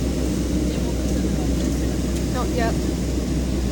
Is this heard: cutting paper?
no